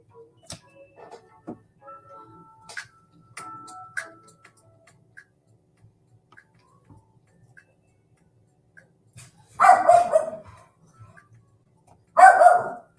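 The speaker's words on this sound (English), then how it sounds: "Got my little fur babies barking." After scattered faint clicks and ticks, two loud dog barks ring out close by, a couple of seconds apart.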